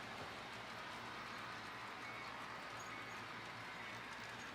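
HO scale model trains, including a mixed freight and a second train, run on a home layout with a steady, continuous rolling rumble and faint clicking throughout, with no talking.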